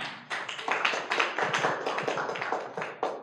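A seated audience applauds a woman in the crowd at a motivational gathering, steady clapping close and fairly loud from start to finish, the claps dense and overlapping with small surges in intensity and no voices over them.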